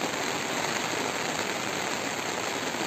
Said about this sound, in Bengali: সকাল থেকে বৃষ্টি থামার কোনো দেখাই মিলছে না।